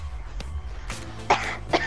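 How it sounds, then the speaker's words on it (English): Two short, harsh coughs a moment apart, close and fairly loud, over a low background rumble. "Cough, cough."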